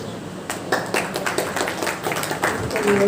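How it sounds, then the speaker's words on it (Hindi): Audience applause welcoming a guest speaker to the stage at a World Elder Abuse Awareness Day celebration, a moderate, continuous patter of claps that builds slightly toward the end. "तालियां बजती रहनी चाहिए, जोरदार तालियां।"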